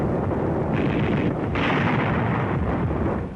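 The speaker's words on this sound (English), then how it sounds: "The blast on the left of the screen has struck the center tank." A heavy artillery blast striking a tank on a WWII North Africa battlefield, a loud sustained rumbling roar with a swelling surge midway, dense and continuous throughout.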